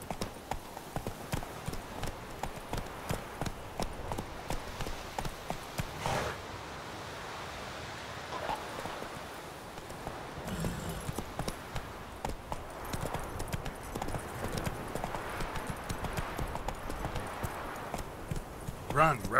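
Horse hooves galloping in The Witcher 3, a steady clip-clop rhythm running throughout over rustling ambient game noise, with a voice speaking over it.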